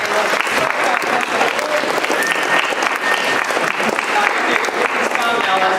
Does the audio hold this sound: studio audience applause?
yes